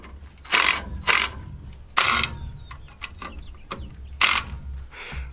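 Ratchet tightening fasteners on roof trusses, heard as several loud, close bursts of clicking separated by short pauses, with lighter mechanical ticks between them.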